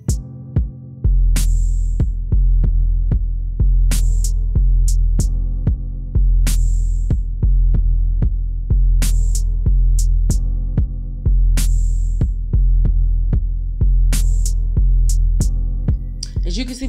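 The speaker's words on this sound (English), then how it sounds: "I am sewing up the sides of the top of the jumper, of the jumpsuit" A sewing machine runs steadily while stitching up the sides of a jumpsuit, making a loud, close hum with regular rhythmic ticking and occasional sharper clicks.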